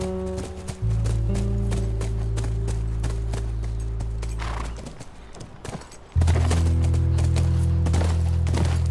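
Horse galloping in the video game The Last of Us: quick, steady clip-clop hoofbeats with an occasional whinny, heard under sustained game music.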